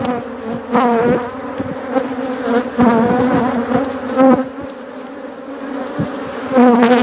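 A dense swarm of bees, apparently a mean or aggressive colony, buzzes loudly and continuously close by, the drone pulsing and swelling as insects fly past, with no speech over it.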